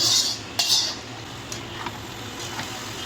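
Pieces of broiler chicken are dropped into spice masala in a pan, making close metallic clinks and scrapes of a utensil, with a few sharp taps spaced out over a low background hum.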